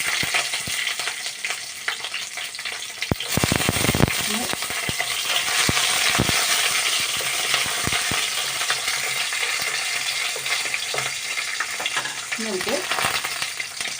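Cardamom pods, three cloves and green chillies sizzle steadily in hot oil for a chicken-parts curry, a continuous close frying hiss with occasional spoon clinks and stirring knocks.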